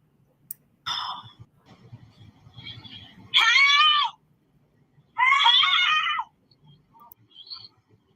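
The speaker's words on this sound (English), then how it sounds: "And the little boy was screaming." A little boy screaming in a played-back recording, two long shrill wailing screams separated by a pause, with faint rustling and murmuring between them.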